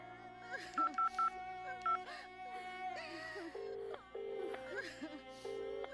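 Telephone keypad tones beep in quick bursts, then several longer tones follow, all fairly quiet against a soft background.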